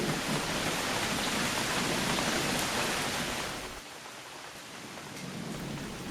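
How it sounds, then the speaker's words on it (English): Steady heavy rain pours down in a dense hiss, with a low rumble of thunder beneath, easing slightly partway through before continuing. "we're getting a nice soaking rain today"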